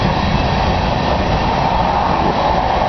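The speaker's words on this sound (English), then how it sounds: "There's a train going on behind me," A train passes behind a front yard, its broad, steady rumble and rolling roar filling the scene, loud and continuous without pause.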